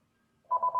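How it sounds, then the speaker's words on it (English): A telephone gives a short electronic tone burst in an office setting, faint and alone, starting partway through after near silence. "all the phones ringing, the schools must be calling"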